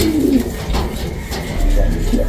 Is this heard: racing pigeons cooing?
yes